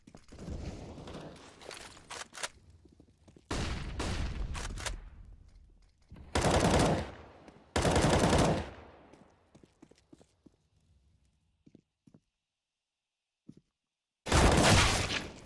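Gunfire from Counter-Strike: Global Offensive, played at a LAN tournament final, comes in loud automatic bursts separated by quieter gaps with faint footsteps and clicks.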